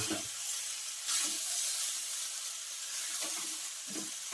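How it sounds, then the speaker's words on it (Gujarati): Cooked boiled rice tipped into a hot pan of pulao and stirred, a steady close sizzle with soft scraping bursts of mixing recurring every second or so, no talk. "હવે આપણે અંદર જે આપડો બાપેલા ભાત છે એ નાખી દઈએ છીએ હવે આપણે એને સારી રીતે મિક્સ કરી દઈએ"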